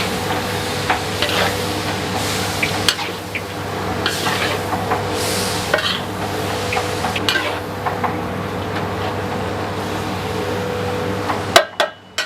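Bean sprouts stirred with XO sauce and a splash of water in a large pan for a hundred portions, a continuous sizzle broken by scraping spatula strokes and occasional metallic clanks, with a steady low hum of a burner underneath.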